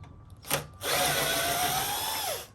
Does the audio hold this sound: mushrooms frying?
no